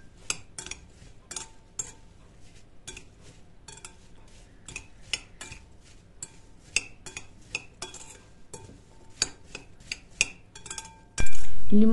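A spoon stirs sliced apples with cinnamon, lemon juice and sugar in a bowl, making close, repeated clinks and taps against the dish in an irregular rhythm, then one loud thump at the end.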